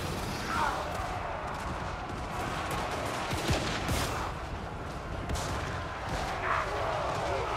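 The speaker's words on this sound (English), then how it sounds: "They're just shooting like crazy." Soldiers firing in Total War: Warhammer 3, a dense, continuous rattle of massed gunshots and volleys in a busy battle din, with sharper cracks standing out now and then.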